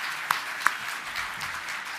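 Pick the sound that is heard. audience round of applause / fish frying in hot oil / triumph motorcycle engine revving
audience round of applause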